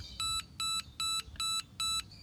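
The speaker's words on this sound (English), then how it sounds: "The unit, it's beeping because it cannot detect the other three." A FOBO Tire 2 tire-pressure monitor unit beeps high in five evenly spaced bursts, each a steady tone lasting a fraction of a second, with a quiet background between them, as it fails to detect three sensors.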